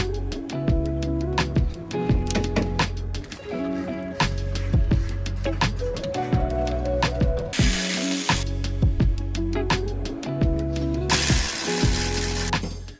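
A ratchet clicks in rapid bursts while a radiator pack is bolted into a Land Rover Defender during an electric conversion, the close, crisp pawl clatter repeating with brief pauses between strokes.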